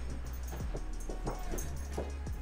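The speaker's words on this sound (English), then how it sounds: "the dog's making his bed" A dog settles into its bed indoors, with brief close shuffling and a few soft whimpering sounds over a low room hum.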